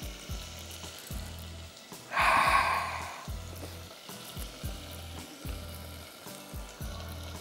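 Ginger and garlic frying in a hot pan, a steady low sizzle with a brief louder hissing burst partway through, close and continuous without talk.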